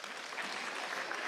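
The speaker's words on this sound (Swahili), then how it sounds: "Pigeni makofi." Audience clapping at an outdoor Usalama security event in Nyandarua, Kenya, a dense steady burst of many hands heard briefly without talk.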